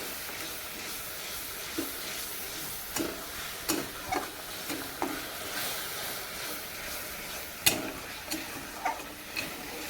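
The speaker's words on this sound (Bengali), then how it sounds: "এখন মশলাটাকে ভালোভাবে কষানো" Spice masala frying in a pan for a fish curry, a steady broadband sizzle with soft intermittent taps and clicks of a spatula stirring at irregular intervals, close and moderately quiet, no talking.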